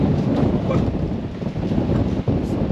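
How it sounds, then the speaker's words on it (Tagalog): Strong typhoon wind at landfall buffets the microphone in loud, continuous gusts with rushing, surging noise and a brief dip near the end, with no voices. "sobrang lakas po ng hangin"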